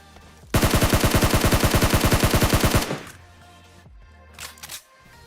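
A rapid, loud burst of automatic gunfire in PUBG Mobile lasts about two seconds, followed by quieter game sounds and a brief rattle near the end, with no talk.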